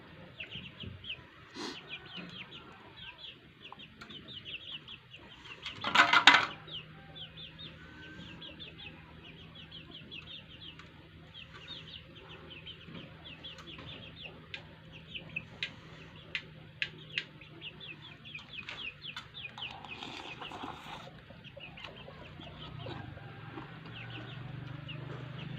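Chickens cluck and call in the background near a kitchen where hot rice noodles are being made, with scattered short bird calls and one louder burst over a steady low hum.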